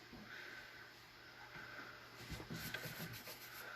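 Fine 220-grit sandpaper rubbing across a hat brim, a steady soft scratchy friction sound that is faint and continuous, picking up slightly toward the end, with no talking.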